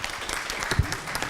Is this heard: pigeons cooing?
no